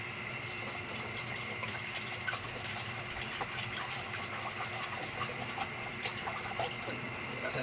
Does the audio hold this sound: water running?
yes